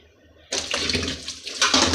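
Tap water gushes into a kitchen sink while dishes are washed, starting abruptly and splashing loudly and close, with the flow shifting as things are moved under it.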